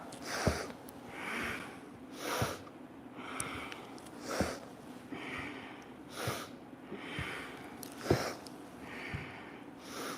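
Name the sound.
rhythmic breathing, inhaling and exhaling during Kriya exercise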